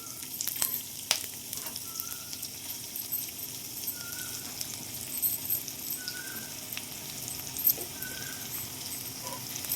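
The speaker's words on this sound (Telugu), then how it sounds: "వేడైన ఆయిల్లో వేసేద్దాం" Gongura leaves frying in hot oil, a steady sizzle filling the whole stretch with a few faint clinks of a utensil, close and continuous, no voices.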